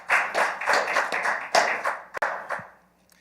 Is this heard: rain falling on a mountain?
no